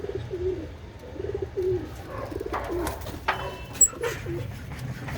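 Black-eyed Cheena pigeons coo in a low, repeated burbling rhythm close by, with scattered rustles and faint background noise between the calls.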